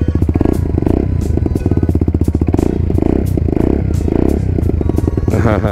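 A modified 2023 Italjet Dragster 200 scooter idles with a rapid, throbbing engine pulse close by, giving a short rising rev near the end of the run.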